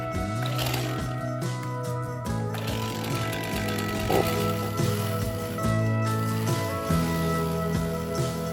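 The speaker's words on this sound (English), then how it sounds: "Now we got to mark it and cut the horizontal with the chainsaw." A chainsaw cuts the horizontal brace rail for a woven wire fence H-brace, its engine droning steadily with the pitch shifting as the chain bites into the wood, loud and close throughout.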